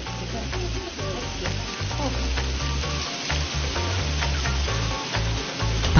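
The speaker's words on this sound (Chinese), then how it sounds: "温度为190摄氏度左右的时候，我们香脆可口的油炸薯条出锅了。" Semi-processed supermarket french fries deep fry at home in oil near 190 °C, a steady loud sizzle and bubbling with occasional stirring, no talk.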